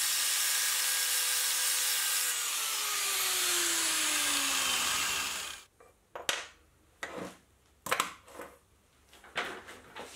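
An old, completely worn-out ball bearing from a lathe being cut with a power tool: a steady, loud grinding whine for several seconds, then stopping, followed by a handful of sharp metallic clanks and knocks as pieces are handled.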